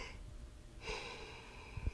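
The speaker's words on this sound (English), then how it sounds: "Sorry, I got a yawn." A man's yawn on a podcast, a drawn-out breathy inhale and exhale heard close and alone, ending in a soft snort-like catch.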